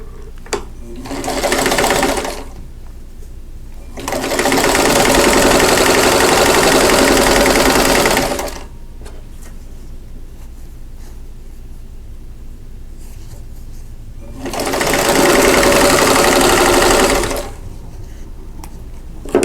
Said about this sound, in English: And once again, sew right on that line.